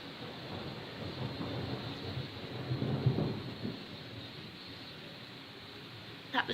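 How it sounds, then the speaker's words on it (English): Thunder from a sudden storm rumbles and rolls, swelling to a heavy peak midway and trailing off into a steady background wash, with a sharp crack near the end. "That was thunder."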